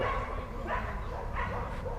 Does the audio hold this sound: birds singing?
no